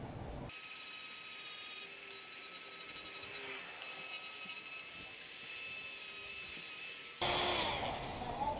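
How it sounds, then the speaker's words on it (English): Drum sander deburring the cut end of a Mufflex exhaust pipe for a RAM 1500, a sustained high whine running for several seconds, then a louder burst of grinding at the end. "I'll get my drum sander and go ahead and deburr this part a little bit"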